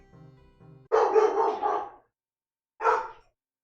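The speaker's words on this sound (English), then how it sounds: "That one's my dog." A pet dog barks in two loud, close bursts, the first a rapid volley of several barks and the second a single short bark after a pause, with a faint low murmur before them.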